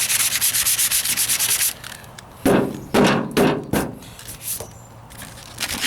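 Hand sanding of a body-filler patch on the wheel arch of a 1998 Ford Ranger pickup, a steady rapid scratchy rubbing at first, then several separate louder strokes and scuffs with short pauses, close up and with no talk.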